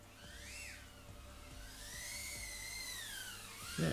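A tuned FPV drone flies nearby with a steady high-pitched whine from its motors and props, the pitch gliding up and down as the throttle changes.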